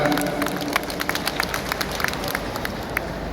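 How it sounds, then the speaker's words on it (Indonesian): Audience applause at a PDI Perjuangan political declaration event in Banten, a steady wash of many hands clapping with scattered sharper claps throughout, moderately loud and without speech. "Boleh tepuk tangan juga."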